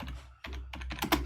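Quick bursts of keystrokes on a computer keyboard, a few close, crisp clicks in an uneven rhythm with a brief pause partway through, quiet and without speech.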